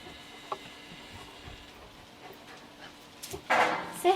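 A puppy pants in quick soft breaths close by, with faint pattering movement and a louder burst of breathing and rustle near the end, no talk.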